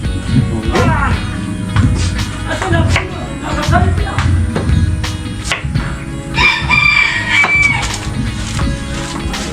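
Roosters crow repeatedly nearby, overlapping with clucking chickens, while people talk in the background.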